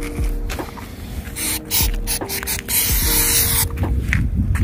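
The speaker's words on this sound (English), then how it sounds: "Spray and mark." Several short hissing bursts from a spray paint can marking the ground, irregularly spaced, with one longer spray in the middle, close by over low background noise.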